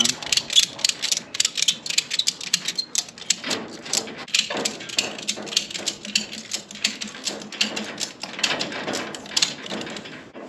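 A ratchet strap being cranked tight around homemade pallet forks while securing a livestock squeeze chute, a close, steady run of rapid mechanical clicks in repeated bursts.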